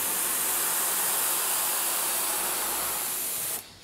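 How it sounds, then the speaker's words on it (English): A steady, close airbrush hiss spraying continuously for a few seconds, then cutting off abruptly near the end. "just give it a nice light little spray"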